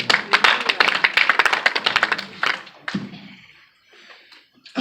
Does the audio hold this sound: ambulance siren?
no